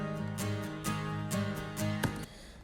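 Two acoustic guitars play together, one regular and one in Nashville tuning with its top strings raised an octave, ringing through soft strummed chords in a steady pulse before fading.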